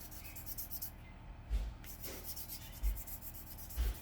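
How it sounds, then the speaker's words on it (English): Hand sanding of a craft badge buddy: soft, steady rubbing strokes, quiet and close, with a few slightly firmer scrapes and no talking. "So I try to sand it down as much as I can"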